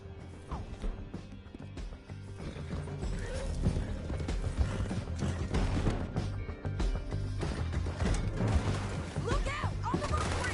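A horse gallops in Red Dead Redemption 2, with steady clip-clop hoofbeats under game action, rattling mechanisms, crashes and shouted character voices.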